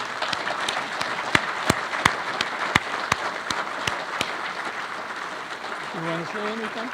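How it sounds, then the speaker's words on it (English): An audience at a hall of fame ceremony applauds for racer Scott Harvey, a sustained wash of clapping with a few sharp individual claps standing out, and a voice speaking near the end. "I'd like to give Scott a round of applause for that career."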